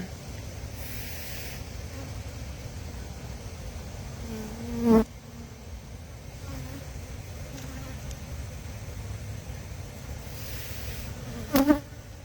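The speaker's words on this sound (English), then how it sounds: "I just can't imagine there being this many bees and not having a queen." Honey bees fill an open hive with a steady, dense buzzing drone that holds throughout, with a couple of brief louder buzzes of single bees passing close by the listener.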